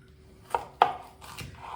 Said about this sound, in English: Cut your jalapenos in half.